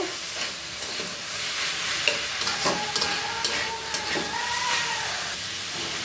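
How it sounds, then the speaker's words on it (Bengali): A spatula stirs a vegetarian vegetable bhaji frying in a pan. It gives a continuous close sizzle with repeated light scrapes and clinks against the pan. "ভাজিটা প্রায় রান্না হয়ে গেছে আর একটু হবে আরও দু মিনিটের মতো নেড়ে চেড়ে নিব"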